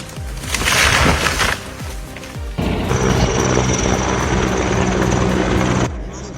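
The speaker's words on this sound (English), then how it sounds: "Heavy-lift helicopters transport large logs across terrain that would be nearly impossible to access by ground equipment" A heavy-lift helicopter flies over mountain forest during aerial logging, its loud, continuous rotor and engine roar filling the air with a shift in tone partway through, under a narrating voice.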